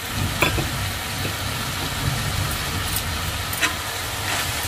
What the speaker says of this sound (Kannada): ಇದ್ರ ಜೊತೆಗೆ ಉದ್ದುದ್ದ ಹೆಚ್ಕೊಂಡಿರೋ ಹೀರೆಕಾಯಿ ಕೂಡ ಹಾಕ್ತಾ ಇದ್ದೀನಿ